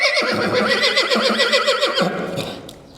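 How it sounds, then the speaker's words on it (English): A loud, close horse whinny with a long shaky trill, fading out near the end. "I don't like it when my horses neigh right in my face."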